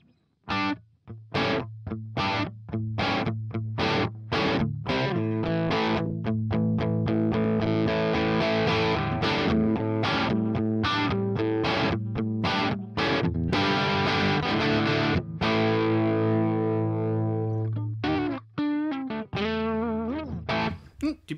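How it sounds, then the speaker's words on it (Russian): Electric guitar through a Neural DSP Archetype Nolly amp plugin on a light crunch setting, default preset with knobs at noon, playing rhythmic strummed chords and sustained notes for about twenty seconds with no talk. "Типичный легенький кранчик."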